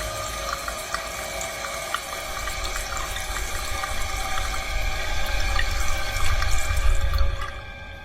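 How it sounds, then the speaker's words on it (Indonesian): Water runs from a tap in a bathroom in a horror film, a steady splashing flow that swells slightly louder before cutting off near the end, with faint drips and tonal hum. "Roy mulai diganggu dengan suara keran air yang tiba-tiba nyala sendiri"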